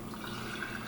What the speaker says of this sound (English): this kefir I'm going to pour